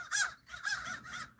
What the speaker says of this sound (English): Crazy birds.